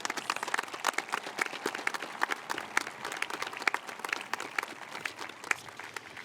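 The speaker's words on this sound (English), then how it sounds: "I think both Lou and Kathleen deserve a good round of applause for that" Audience applause at a high school graduation ceremony, a dense, steady patter of many hands clapping in a hall, moderately loud and unbroken from start to finish.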